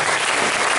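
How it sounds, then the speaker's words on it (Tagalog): A church congregation bursts into loud, dense applause that runs steadily through the brief moment with no talking. "Pwede ba napakalakas sa palakpak kay Lord?"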